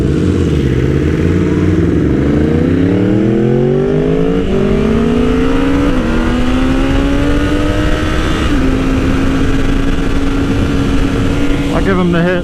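A 2020 BMW S1000RR motorcycle accelerates hard in a race, its engine revving up through gears with rising whine and brief shift dips, loud and continuous under heavy wind noise from an onboard viewpoint.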